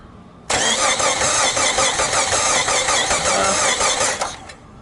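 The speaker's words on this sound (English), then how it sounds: "I rigged up a starter button here so I can crank it." A 1999 Jeep Grand Cherokee engine cranks steadily on a rigged starter button without catching, a loud continuous whirring grind lasting about four seconds, then fading as the starter is released.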